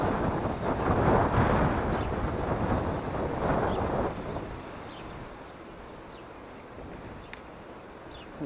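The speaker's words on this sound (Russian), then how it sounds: "Ветер сегодня жесткий просто" Strong wind by a small river in autumn buffets the microphone in a heavy, rumbling roar that eases after a few seconds into a steadier gusty hiss.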